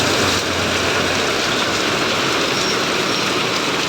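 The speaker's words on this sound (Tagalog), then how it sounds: "Ang lakas ng ulan." Heavy rain pours down steadily in a dense, constant hiss close by, with no voices and no pauses.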